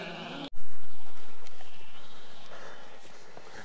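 Wild Irish hill sheep bleating outdoors, a loud close bleat after a sharp burst, then fading bleats and background sound over several seconds.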